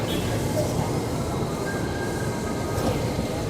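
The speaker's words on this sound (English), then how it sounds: "Oh, that's the train." A KRL Commuter Line train rumbles into a Jakarta platform, steady low roar of wheels on rails with a faint metallic squeal, close and continuous.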